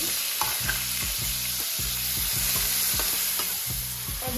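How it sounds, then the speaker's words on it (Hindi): Tomatoes hitting hot ghee with cumin seeds in a pan, a steady loud sizzle with a regular rhythm of stirring strokes scraping through it, close and without talk. "अब इसमें डालूंगी मैं टमाटर।"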